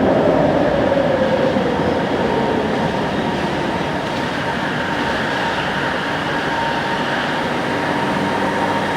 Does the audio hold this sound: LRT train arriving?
yes